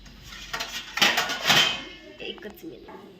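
Metal pot lid set down onto a cooking pot in a home kitchen, giving a few close clanks and clinks around the middle, with a voice talking and other dish sounds in the background.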